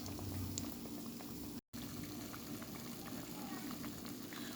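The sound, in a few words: fried bake dough frying in a pan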